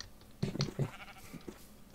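A Minecraft sheep bleats a few times in short, wavering calls, moderately close and clear with no talk over it.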